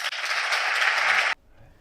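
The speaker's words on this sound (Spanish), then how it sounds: "Un aplauso para ellos." Applause from an audience at a book presentation: loud, close, even clapping that holds steady for just over a second, then cuts off abruptly to near silence.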